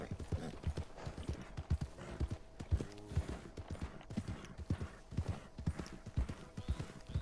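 Horse hooves galloping in Red Dead Redemption 2, a steady rapid clip-clop rhythm close up, with a brief whinny partway through and someone talking over the hoofbeats.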